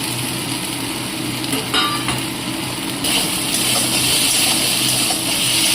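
Soft sizzling and stirring of fried apple snails cooked with spinach and spices in a pan, a continuous frying hiss with occasional scraping and clinks, growing slightly louder partway through.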